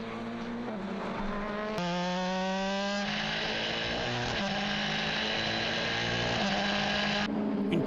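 A Ligier prototype race car of Idexport Racing, number 15, roars from onboard at Estoril in an endurance race, its engine loud and close, rising through the revs and shifting gears repeatedly.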